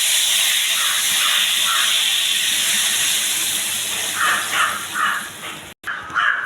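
Thinned tamarind water hits hot tempering oil in a pan, releasing a loud, sustained hissing sizzle that swells in a few bursts near the end and briefly cuts out.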